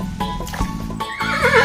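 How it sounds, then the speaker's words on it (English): A horse neighs loudly and close, a wavering whinny rising at the end, with a few hoof clip-clops underneath and no talk. "Horse."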